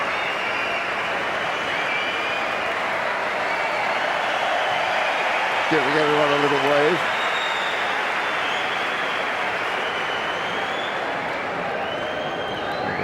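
Spectators in the stadium stands at the 2003 Madrid Masters tennis final applaud steadily as a famous footballer is spotted, a broad wash of clapping running under a commentator's voice throughout.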